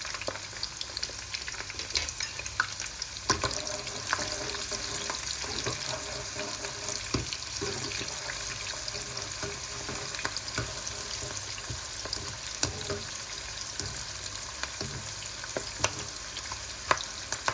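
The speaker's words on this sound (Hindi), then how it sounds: "अब करते हैं जी प्याज को हल्का सा फ्राई।" Onions and green chillies stir-fried lightly in a pan for an arvi and capsicum fry, a steady close sizzle with scattered scraping stirs and small pops throughout, no voices.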